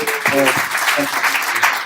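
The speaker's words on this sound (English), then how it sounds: "Let's give him a big round of applause." Audience applause at a TensorFlow London tech meetup, a short burst of clapping from the crowd with voices mixed in underneath.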